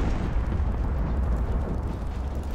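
Secondary guns on a World War II battleship fire steadily in Ultimate Admiral Dreadnoughts, during a Yamato versus Iowa naval battle. They make a continuous, dense low rumble of overlapping booms with no clear gaps between shots.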